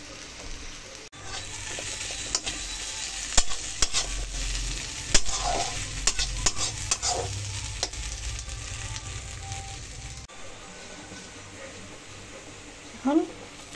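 Onion, garlic and ginger paste fry and sizzle in a pan while being stirred, with scraping clinks and soft crackling. A voice talks over it, and the sizzle drops off near the end.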